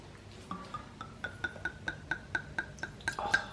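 Wine poured from a bottle into a glass at a home dinner with tavas, a run of quick gurgling glugs with bright clinking ringing tones, close and fairly quiet, repeating steadily over a few seconds.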